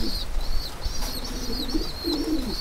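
A lakkha fantail pigeon flies up onto a roof, its wings flapping nearby, with bird chirps and coos around it and no talk.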